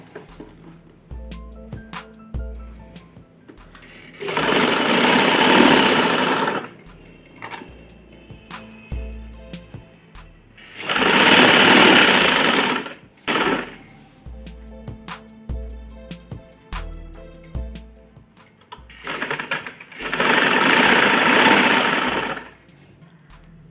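A sewing machine stitches seams on fabric for a girl's winter frock in three loud bursts of fast, buzzing needle chatter, separated by quieter pauses with faint clicks and handling.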